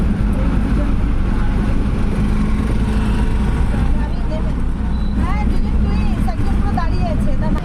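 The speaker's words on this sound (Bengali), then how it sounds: "এই অটোর মধ্যে উঠে পড়েছিস" An auto rickshaw ride through town traffic, a steady loud engine drone and road rumble close by, with people talking over it throughout.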